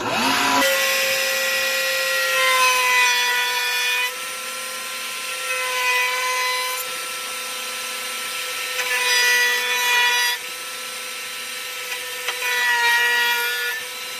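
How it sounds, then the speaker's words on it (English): A power tool rounds over the edges of a wooden base for a guitar neck rest. Its loud, high, steady whine swells and dips as the bit runs along the wood, and no one speaks. "So I'm going to basically put a rounded over edge on both sides"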